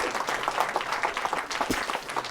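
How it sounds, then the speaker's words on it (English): An audience at a liberty forum talk claps steadily, the dense patter of many hands holding at a moderate level throughout. "Another round of applause for Dennis, please."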